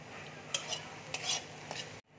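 Whole black and green cardamom and cinnamon sizzling in hot oil with browning onions for an egg curry, a steady close hiss broken by a few light utensil clinks and stirs, cutting off abruptly.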